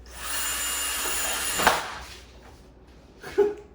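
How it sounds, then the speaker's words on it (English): A power drill whines steadily through wood for over a second while building a chicken brooder, then winds down, followed by a short knock and a brief burst. "So drill it kind of close to where it starts beveling down."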